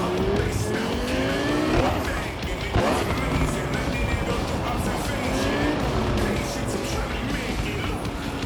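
A fast car tearing through the streets in the video game Cyberpunk 2077, with a loud, steady engine roar and repeated tire squeals and skids, and a voice talking over it at times.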